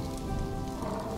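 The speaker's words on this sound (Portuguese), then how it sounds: "E começou agora uma chuva." Rain falls in the video game Planet Zoo, a steady, dense patter on surfaces filling the short stretch with no voices over it.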